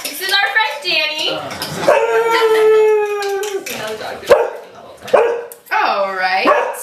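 A dog barks and howls in a home kitchen during cooking, its drawn-out howls mixed with people talking nearby throughout.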